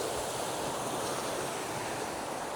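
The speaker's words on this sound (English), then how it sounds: "So we go with a close up on that waterfall." A waterfall in a rocky clough on a gritstone moorland gorge roars steadily and close, a dense unbroken rush of falling water with no voices over it.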